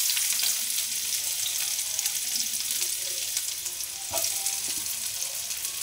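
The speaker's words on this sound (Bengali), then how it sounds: "তেল গরম হয়ে গেছে, এর মধ্যে আমি পেঁয়াজ দিয়ে দেবো।" Onions sizzle and crackle in hot oil in a home kitchen pan, with a steady close frying hiss and occasional stirring clinks, no voices.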